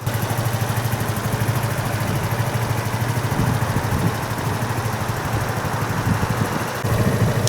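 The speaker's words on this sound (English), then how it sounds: "Okay, test drive." A small gas scooter with a homemade roof runs steadily on a test drive in London, its engine droning close and continuous for the whole stretch with no talk over it.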